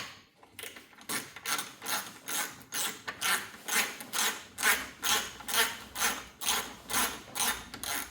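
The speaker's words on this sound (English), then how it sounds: "you need a 10 millimeter socket to remove this bolt right here" A 10 mm socket ratchet clicks steadily while loosening a bolt on a 2020 Bentley Continental GT W12 during an oil change, with about fifteen evenly spaced ratcheting strokes, close and clear, and no talking.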